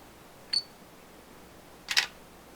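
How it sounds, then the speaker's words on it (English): Two crisp single-lens reflex camera shutter clicks, about 1.4 seconds apart, sound close and sharp against near silence while a snake is being photographed. "Take another picture."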